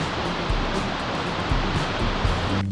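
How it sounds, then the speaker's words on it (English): A roaring waterfall, met on a long drive back to Utah, makes a steady broadband rush with no breaks, loud and continuous throughout. "Along the way, we stopped and we saw a beautiful waterfall."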